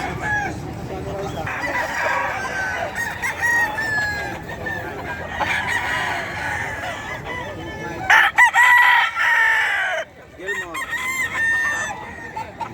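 Roosters crow repeatedly over a busy chorus of clucking chickens at the Bocaue pet market, loud and close, with one long crow standing out near the end.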